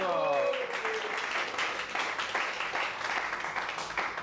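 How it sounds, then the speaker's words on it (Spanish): Audience applause at a religious stage event, a steady wash of many hands clapping that fills the clip at moderate loudness, with voices mixed in underneath. "Muy bien, un aplauso."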